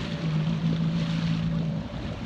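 A jet ski running on open water around the light tower off Islamorada in the Florida Keys, a steady droning engine with a sustained tone under rushing wind and splashing spray, loud and close throughout.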